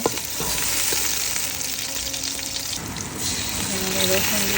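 Whole spices fry in hot oil for Old Dhaka-style tehari, with meat waiting nearby, giving a steady, close, dense sizzle with faint stirring throughout and no talk.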